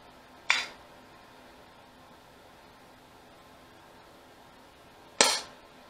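Two sharp pops sound several seconds apart as a bottle held upside down in the barrel tip pressurizes a Cool Fire trainer, each a quick loud burst fading fast over faint background hum.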